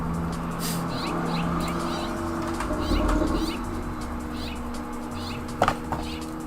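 Birds chirp and call outdoors, heard through an open window, against a steady low hum, with scattered repeated tweets throughout and a couple of sharper sounds near the end.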